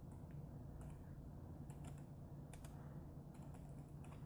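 Keystrokes on a computer keyboard while programming a PLC, rapid irregular clicks in short bursts over a steady low background hum, fairly close with no voices.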